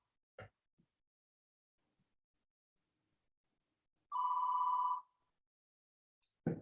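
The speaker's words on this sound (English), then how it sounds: "we've got a phone ringing" A phone rings once with a steady electronic tone lasting about a second, in an otherwise quiet room, with faint clicks before it and a short noise at the end.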